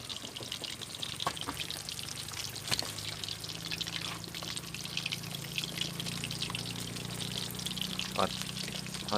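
Continuous crackling sizzle of fish frying in a pan, with scattered pops and a faint low hum underneath.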